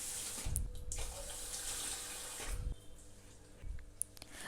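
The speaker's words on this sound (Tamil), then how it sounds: "இதை வந்துட்டு நம்ம ஒரு தடவை நல்லா வாஷ் பண்ணிக்கலாம் தண்ணி ஊற்றிட்டு." Running water splashes over rice being washed in a kitchen vessel, a steady faucet stream with brief louder sloshes as the grains are stirred, close by and alone.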